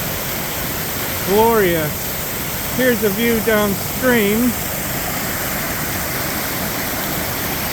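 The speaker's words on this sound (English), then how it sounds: "here is the upper waterfall" Steady rushing water from the upper waterfall on Mill Creek fills the background with a constant broadband roar, while someone speaks briefly over it.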